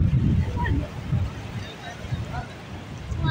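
Sea waves wash onto a beach in a low, rolling rush with wind noise on the microphone, while people talk nearby over the surf.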